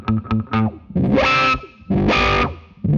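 A Keyztone Wahouwah Bluetooth multi-wah pedal on distorted guitar rocks heel to toe. A few quick plucked notes give way to two long, loud sustained chords that sweep from throaty lows to a bright, narrow, almost synth-like peak.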